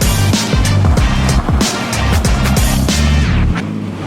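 A Volvo car engine stalls while the car is being pulled in, chugging loudly and close in uneven, lumpy bursts before sagging away near the end.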